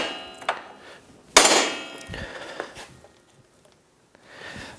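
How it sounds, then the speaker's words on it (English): A hammer strikes a stuck hub nut on a Yamaha YXZ1000R side-by-side, with one hard metallic blow landing mid-clip and ringing off. Fainter knocks and tool clatter come before and after it, and no one speaks. "I can swing the hammer to hit the nut, and hopefully this will give me enough distance where I can hit it hard enough to shock it loose"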